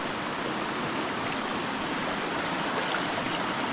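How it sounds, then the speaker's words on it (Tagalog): River water rushes steadily in a continuous broadband wash with no pauses, close and fairly loud throughout, and no voices over it. "Dito po kami sa ilog."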